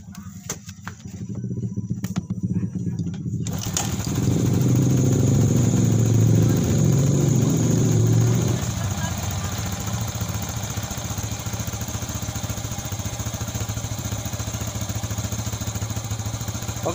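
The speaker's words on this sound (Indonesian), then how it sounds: "sekarang kita tes motornya dulu ya, kita tes hidup" A Yamaha Jupiter Z1 or Vega ZR motorcycle engine fires up after a few seconds and keeps running, louder briefly at first and then settling into a steady idle.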